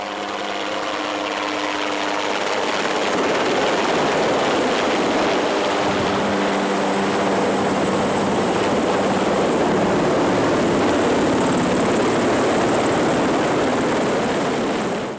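Rescue helicopter arriving on Mont Blanc, a steady loud rotor and engine roar that holds for the whole stretch, with constant broadband wash and no voices.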